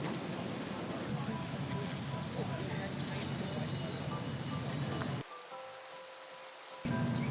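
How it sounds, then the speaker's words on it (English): Steady rain falls on the grounds of Valhalla golf course, a dense continuous patter that drops away abruptly for a moment before returning just as heavy. "More than a quarter-inch of rain has fallen here at Valhalla."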